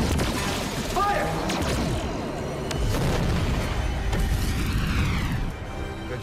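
Starship weapons fire and explosions in a Star Trek battle scene, with dense booming blasts and mechanical rumbles throughout, loud and layered over music-like tones and occasional voices.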